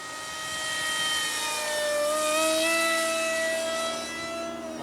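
Engine of a large radio-controlled Interceptor propjet model at half throttle, a steady whining turbine-like drone that swells and fades slightly as the aircraft passes overhead, with no voices.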